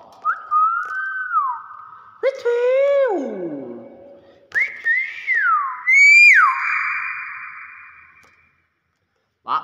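A myna (beo) bird whistles clearly and loudly in a series of separate calls: rising and falling tonal whistles, some with rich harmonics, alternating with short pauses and ending in silence.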